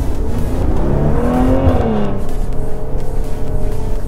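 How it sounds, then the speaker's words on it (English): A 2020 Maserati Levante accelerating, its engine and exhaust rising loudly in pitch as the revs climb, then settling into a steady throaty drone, close and continuous with no talk. "let's give it a little acceleration and see how she does"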